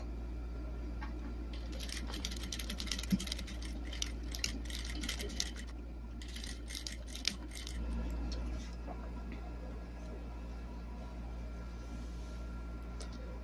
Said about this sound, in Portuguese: agora é só passar uma costura pé de máquina pra gente terminar o bloco